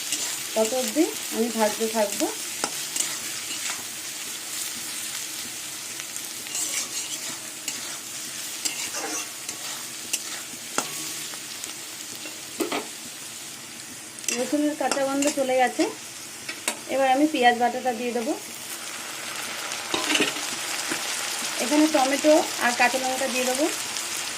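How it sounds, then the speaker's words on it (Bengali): Potatoes and onions fry with garlic paste in a pan, giving a soft, steady sizzle broken by repeated scraping stirs, with a voice briefly heard between. "এবার বাটা রসুন দিয়ে কিছুক্ষণ আবার আলু দিয়ে ভাজবো যাতে রসুনের কাঁচা গন্ধটা চলে যায়"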